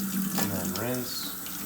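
Tap water running steadily into a sink while hands are rinsed, a continuous splashing rush with a short spoken phrase over it.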